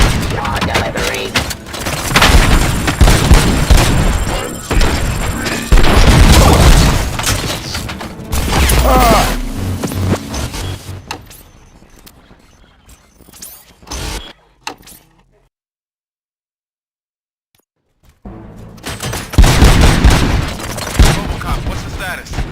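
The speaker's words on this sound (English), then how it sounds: "Gunshots? What's going on?" Gunfire in the video game RoboCop: Rogue City, with rapid bursts of shots and heavy booms amid mechanical noise, then a sudden drop into near silence before the loud action returns.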